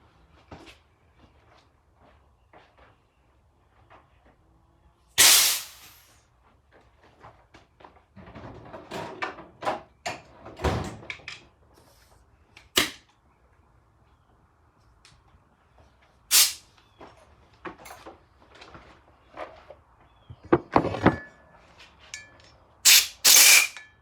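Compressed air blasts debris out of a threaded hole during a brake upgrade on a BMW E30. Several short, sharp hissing bursts are spread apart, with quiet clicks and handling noises between them and no talking.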